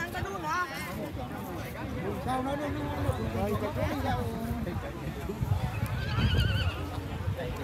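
Horses at the traditional Gò Thì Thùng horse race in An Xuân, Tuy An, Phú Yên, with repeated loud whinnies and neighs over steady running hoofbeats, amid crowd chatter and an announcer talking throughout.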